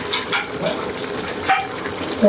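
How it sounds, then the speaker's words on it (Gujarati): Cumin seeds are tempered in hot oil for a Gujarati corn curry, crackling and sizzling close up in a short continuous burst with small pops. "હવે આપણે નાખી દેશું દાણા જીરું"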